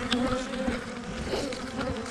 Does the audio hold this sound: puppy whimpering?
no